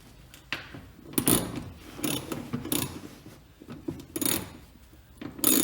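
Ratchet wrench clicking in short, uneven bursts while working a stuck bumper bolt free during tow hitch installation, close and fairly quiet, with pauses between strokes.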